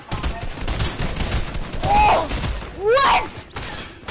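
Rapid bursts of gunfire ring out in an online shooter game, two louder volleys standing out among quicker shots, while players react with brief excited exclamations over the action.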